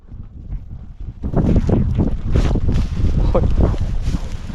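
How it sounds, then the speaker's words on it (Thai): Wind gusts outdoors near water, buffeting the microphone with a low rumbling roar that grows stronger after the first second, with a voice faintly audible underneath. "ลมพัด"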